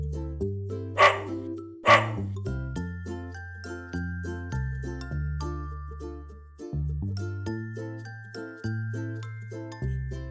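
A dog gives two sharp, loud barks in quick succession near the start, set over a light, plinking musical backing that continues afterward.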